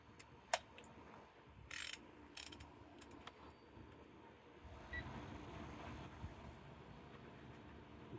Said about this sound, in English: I'm going to go ahead and re-torque this bolt back down to the torque.